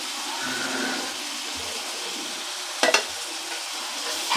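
Ginger, garlic and coriander paste frying with onion and tomato for homestyle biryani: a steady soft sizzle with stirring scrapes, a sharp clatter near the three-second mark and another at the end, no voices.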